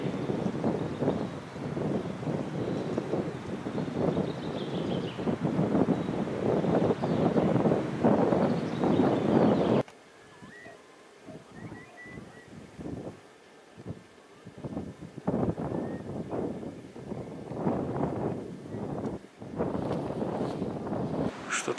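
Strong evening wind outdoors in spring, a gusty roar buffeting the microphone for about ten seconds, then dropping to quieter rustling gusts before building again.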